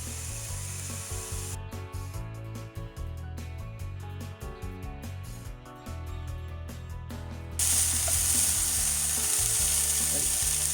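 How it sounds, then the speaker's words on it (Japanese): Daikon radish peel and leaves being stir-fried in a pan, with a rapid run of close scraping and clattering strokes followed by a steadier, louder hiss near the end. "あとは炒めていきます"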